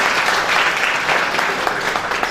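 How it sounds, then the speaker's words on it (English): Steady applause from an audience after a talk on Bangladesh's economic growth, dense and continuous clapping filling the room at close range for the whole stretch. "a big round of applause for this round"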